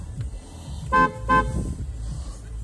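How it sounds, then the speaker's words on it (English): Two short honks from the horn of a 1999 BMW 323i with a faulty power steering pump, each about a quarter second, close and fairly loud over low background rumble. "Pretty cool little horn."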